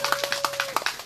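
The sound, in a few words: audience applause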